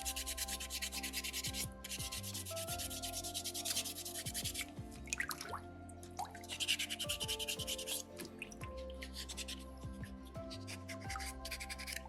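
Sandpaper rubbed by hand over a soapstone skull carving, a close, steady rasping in repeated short strokes with small pauses between passes, no talking.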